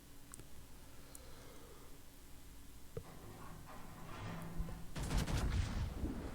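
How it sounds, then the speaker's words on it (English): Battleship guns boom in the naval game World of Warships, a USS Massachusetts firing at a cruiser, with a sharp shot near three seconds and a heavier rumbling salvo building from about five seconds to the end. "We are shooting at the Wichita because of those ships."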